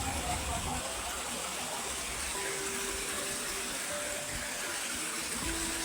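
A large river flows past fields, a continuous, even rush of water without break, with a voice faintly present beneath it.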